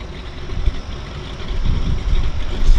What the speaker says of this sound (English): I love the sound of a round engine.